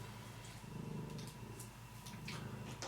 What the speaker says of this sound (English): I got my very bossy kitty who wants attention